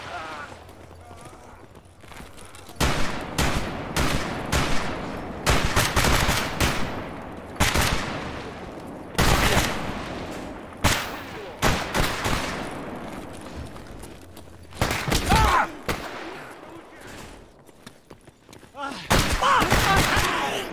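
Loud bursts of gunfire from the video game STALKER Anomaly repeat in rapid clusters across the scene, with someone talking over the shooting.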